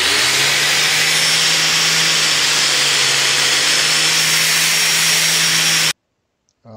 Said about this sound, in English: What I'm using are these, they're called dry polishing pads